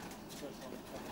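Racing pigeons coo steadily in a large loft, a soft continuous murmur of birds filling the space with faint wing movement, heard close and even throughout.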